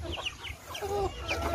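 Chickens cluck and chatter nearby in short, overlapping calls over a low background rumble.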